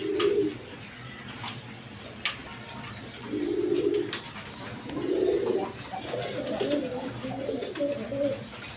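Several pigeons of prized breeds coo in soft, repeated bursts, fairly close, with a low murmur of other birds and faint background noise between calls.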